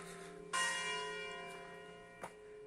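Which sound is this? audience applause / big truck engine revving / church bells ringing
church bells ringing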